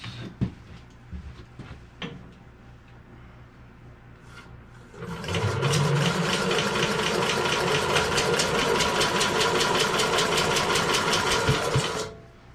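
World War II era engine cranking over during a compression test, a fast even rhythmic chugging that runs loud and steady for about seven seconds before stopping, preceded by quieter clicks and handling noises.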